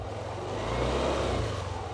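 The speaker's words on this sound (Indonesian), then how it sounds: "nih digeber dah dikit dah" A Yamaha Aerox scooter engine revs briefly and steadily, a close, continuous whirring hum that swells slightly in the middle.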